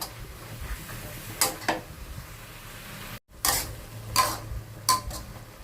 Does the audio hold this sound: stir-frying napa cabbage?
yes